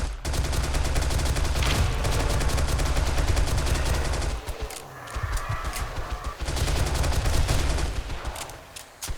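Rapid, loud automatic gunfire from a silencer-free weapon in the video game 7 Days to Die, shooting at vultures during a night horde on the Rebirth mod, sustained bursts with a brief lull midway before firing resumes.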